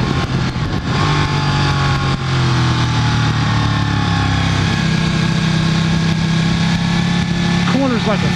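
A BMW HP4 or Ducati 1299 Panigale S sportbike engine downshifts on a race track: a loud, steady drone under heavy wind roar, with the pitch stepping and rising near the end.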